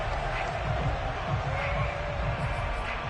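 A virtual stadium crowd in the Madden 22 football game roars and shouts while a replay is watched, a broad, steady babble of cheering voices at a distance, continuous throughout.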